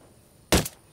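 Gunfire from the PC co-op tactical shooter Ghost Recon Wildlands: one sharp, loud shot burst with a quick echoing tail, then a brief second crack right at the end, with no talking.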